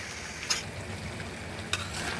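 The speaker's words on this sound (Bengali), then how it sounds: "বেগুনগুলো এখন একটু নেড়ে দিলাম" Eggplant pieces being stirred in a cooking pan with dried fish, a steady soft sizzle of frying running throughout and two brief scraping strokes of the utensil, close by with no talking.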